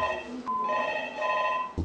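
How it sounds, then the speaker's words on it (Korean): Telephones ring in a high school staff room, a steady electronic bell tone repeating in bursts across the moment with faint room noise beneath and no clear speech. "교무실에는 불안한 학부모들의 문의 전화가 하루 종일 빗발쳤습니다"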